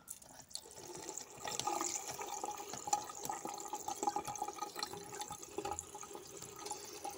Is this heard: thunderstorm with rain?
no